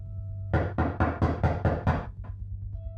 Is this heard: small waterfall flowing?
no